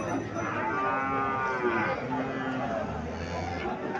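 Friesian and Sahiwal heifer calves at a weekly cattle market in Comilla, lowing loudly with a long drawn-out moo up close while faint crowd chatter and market bustle carry on in the background.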